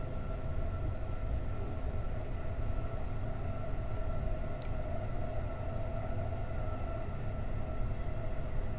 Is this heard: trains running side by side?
yes